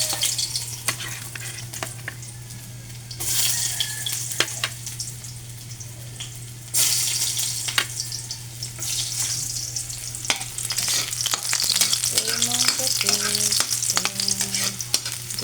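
Chopped garlic fries in a hot pan, sizzling steadily and close, with stirring scrapes and clinks throughout.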